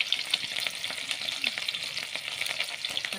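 Chopped onions sizzle and fry in hot oil in a kadai, a steady dense crackle with small pops and occasional stirring scrapes, close and alone without talk.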